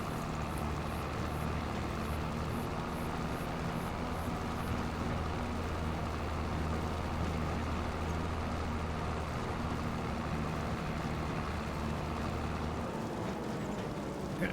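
A tractor in Farming Simulator 25 runs with a low, steady engine drone and a constant hum, moderately quiet and unbroken for the whole stretch, with no voices.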